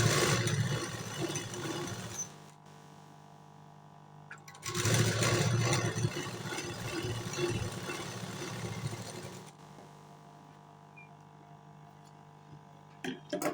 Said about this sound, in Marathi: आता त्याला शिलाई मारत आहे.